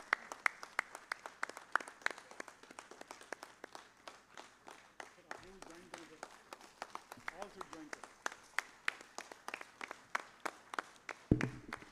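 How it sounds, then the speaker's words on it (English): Faint, sparse applause from a ceremony audience at a mining industry conference felicitation in Odisha, with scattered individual claps throughout and soft voices murmuring partway through. "Let us give a big round of applause."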